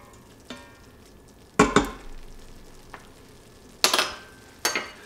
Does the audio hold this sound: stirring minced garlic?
yes